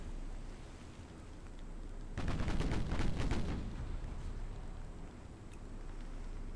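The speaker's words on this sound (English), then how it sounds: "when these cruisers are actually able to fire all their guns, they're pretty nasty" Cruiser naval guns firing in a World War II–era naval strategy game, a rapid rolling volley of booms for about two seconds rising over a steady low background rumble, then fading.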